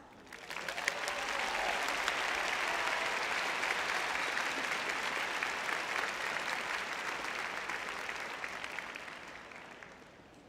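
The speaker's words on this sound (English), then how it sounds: "let's take a moment and thank them with a big round of applause" Loud, sustained applause from a large crowd at the UCLA Samueli School of Engineering undergraduate commencement swells quickly, holds steady for about ten seconds, then begins to taper off.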